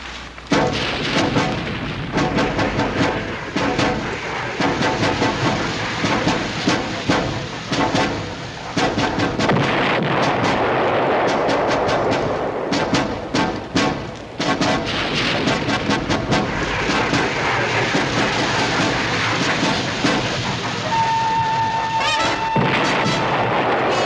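Artillery fire mission in a World War II television drama, with repeated heavy booms and rumbling gunfire continuing throughout, loud and dense, mixed with soundtrack noise.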